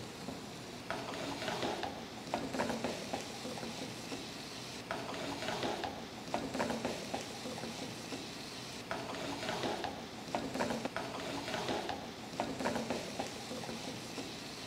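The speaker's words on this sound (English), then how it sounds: "Just browning my meat. This will take a couple minutes." Ground beef browns in a pan for muffin stuffing, giving a steady close sizzle throughout with repeated bursts of stirring and scraping roughly every two seconds, and no voices.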